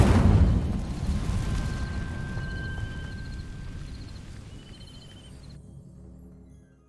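A spell ignites dry vines in the Hogwarts Legacy video game with a loud burst of flame, and the fire crackles and rumbles as it slowly fades away. A few faint chimes ring out partway through.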